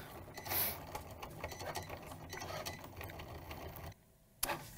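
A Cricut machine cuts a hat design, giving a steady mechanical whirring and clicking with faint rhythmic patter throughout, then falls quiet near the end before a brief click.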